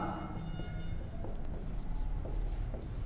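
Pen or chalk writing steadily during a physics lesson on speed, with soft continuous scratching strokes in a quiet room and no talking.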